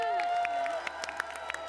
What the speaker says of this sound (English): And another big round of applause for our special guests, Jennifer and Aliona.